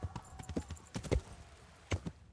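A horse's hooves clop quickly in the medieval game Kingdom Come: Deliverance, with irregular, fairly faint thuds over a couple of seconds.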